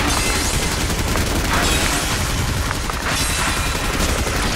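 Dense, continuous gunfire from a Jujutsu Kaisen video game, loud and busy throughout with overlapping bursts and booms and no pauses.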